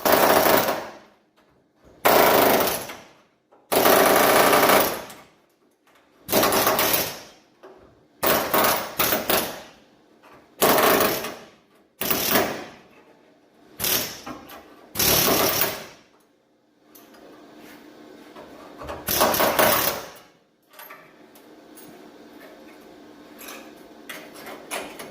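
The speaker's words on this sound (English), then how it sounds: "I'm using my favorite tool, the air chisel, and I am separating the quarter panel from the rocker panel." A pneumatic air chisel cuts a rusty 1965 Ford Mustang quarter panel away from the rocker panel, firing in loud, close, rapid hammering bursts of a second or two with short silent gaps between.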